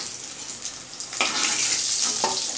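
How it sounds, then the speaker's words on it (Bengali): Lightly parboiled potatoes fry in hot oil for a mutton curry, giving a steady close sizzle that swells into louder, fuller crackling bursts partway through, as if stirred. "আলুটা ভেজে নিলাম।"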